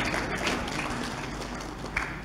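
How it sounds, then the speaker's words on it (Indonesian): An audience at an Islamic religious gathering claps in a brief, dense burst of applause that fades back into room noise. "Mbah Mudin ngopo tepuk tangan yo ora paham kok gitu"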